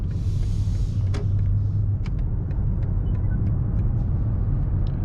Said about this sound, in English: I'm doing first few meters with the M5